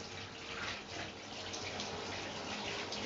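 Steady running water pours over a pet during a bath rinse, a continuous close splashing stream with no talking.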